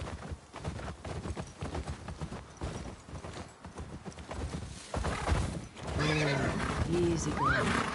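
Horse hooves clip-clopping at a steady gait, then a loud neigh near the end, with background game sounds and some voices over it, in The Last of Us Part II Remastered.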